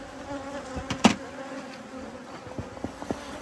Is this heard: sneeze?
no